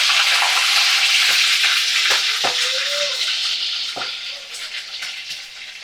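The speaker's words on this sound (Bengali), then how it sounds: "চিংড়ি মাছগুলোকে এবারে কড়ার মধ্যে ছেড়ে দেবো।" Prawns dropped into hot oil in a kadai give a steady, close frying sizzle that carries through and eases slightly toward the end, with a few soft clinks and stirring touches and some light talk over it.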